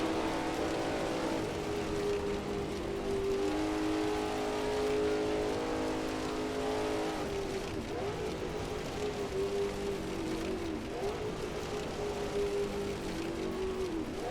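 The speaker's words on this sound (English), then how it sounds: "That's a Maserati that he's driving." Maserati race car in a 1939 Tripoli Grand Prix online race in Assetto Corsa, its engine droning steadily and loud throughout with shifting pitch as it revs, no talk over it.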